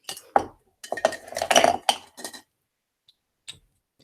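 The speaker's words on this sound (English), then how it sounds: "These are all my little pencils." Small colored pencils clink and rattle against each other in a quick cluster of close, light knocks, followed by a few faint isolated taps after a pause.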